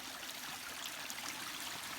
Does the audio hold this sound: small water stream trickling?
yes